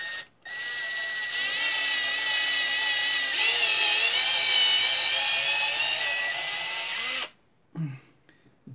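A power drill bores into a yellow Stratocaster guitar body, giving a loud, steady high-pitched whine with wavering pitch for about seven seconds before stopping, followed by a brief low thump.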